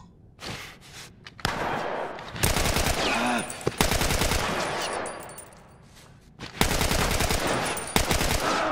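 Gunfire in the video game The Last of Us, loud bursts of rapid automatic fire in several rounds with short gaps between them, plus scattered single shots and thuds.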